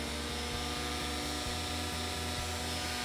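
A Greenworks string trimmer runs with a steady, loud motor whine close by, its pitch dipping slightly partway through as the bump feed head is tapped against the ground.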